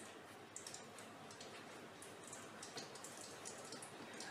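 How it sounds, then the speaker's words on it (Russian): Light rain begins falling outdoors, a soft, even patter with scattered faint drips, quiet and steady throughout with no voices. "А у нас дождик пошел."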